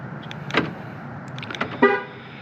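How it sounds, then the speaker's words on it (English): Car horn chirps briefly as the car is locked, a couple of short toots close by amid quiet surroundings. "I'm doing this because I want to lock the car."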